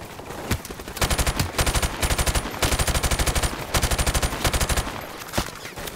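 Bursts of rapid automatic machine-gun fire in Call of Duty: Modern Warfare Remastered, several sustained volleys with short pauses between them, loud and close, punctuated by a few sharper single shots.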